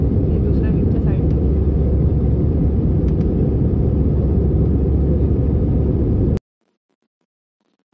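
Inside an airplane cabin in flight toward Goa, a loud, steady engine and air roar fills the space evenly, then cuts off abruptly into near silence.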